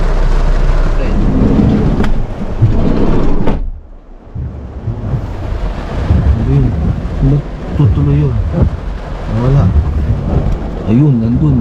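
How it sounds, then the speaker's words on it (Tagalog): Heavy rain with rumbling thunder during a night in Poland, a loud continuous downpour hiss with deep rolls, briefly muffled midway, while people talk over it. "saka umuulan, napakalakas ng ulan"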